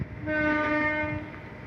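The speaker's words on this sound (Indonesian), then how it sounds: "Menggunakan lokomotif RNB ya. Klaksonnya khas Sumatera banget." A close, loud sustained horn blast from the RNB locomotive of the passing Tawang Alun train, a steady multi-tone chord holding for over a second over low rumbling rail noise.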